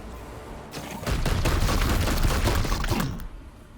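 Sustained burst of rapid gunfire from the turn-based video game Warhammer 40K Chaos Gate: Daemonhunters, loud and dense for about two seconds before trailing off into quieter echoes.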